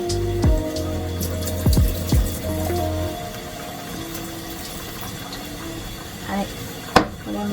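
Tap water runs steadily into a small kitchen sink during washing up in a compact monthly-rental apartment, with dish clinks and a few sharp knocks over the flow.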